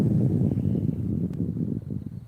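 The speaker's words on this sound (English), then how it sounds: "That's the strongest gust that we had yet." A strong gust of wind outdoors beside a creek, a loud low rumbling buffet against the microphone that swells and then gradually eases over a couple of seconds.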